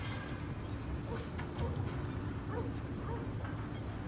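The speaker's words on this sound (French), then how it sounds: "Sympa ton chien." A dog yips and barks repeatedly amid a noisy, rumbling street scene, with people talking over it.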